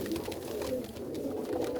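Pigeons coo softly and continuously, fairly quietly against a constant background hum.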